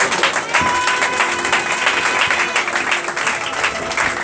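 A church congregation at a Pentecost service applauding and acclaiming the Lord, with dense, sustained clapping from a crowd that fills the room from start to finish.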